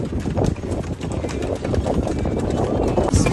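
A horse's hooves clip-clop steadily on a rural track, the beat quickening as it picks up speed, close and loud over a continuous background of movement and rattling.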